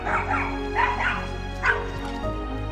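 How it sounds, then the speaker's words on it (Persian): Small dog barking and yipping at a bear, several sharp high barks with whimpers in quick bursts, fairly close. "سگ فسقلی میخواد خرسو دور کنه"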